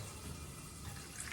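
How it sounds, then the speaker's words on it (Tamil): Steady, soft watery rushing of water being poured into a cooking pot, continuous and close, with no talking. "கொஞ்சம் தண்ணி ஊற்றிட்டு"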